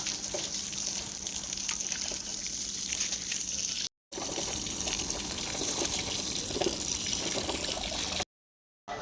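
Water sprayed over a freshly cast concrete house slab to cure it, a steady broad hiss of spray running continuously, broken by two brief silent gaps.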